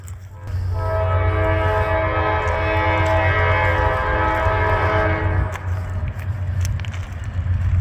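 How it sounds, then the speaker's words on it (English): Norfolk Southern freight train approaching on a wintry day in Illinois, with a loud, steady horn chord sounding for several seconds over the deep rumble of the locomotive, then the horn stops while the engine roar carries on close by. "we do have a train on the way. We're a day after Christmas, the 26th. Looks like we might have a Norfolk Southern"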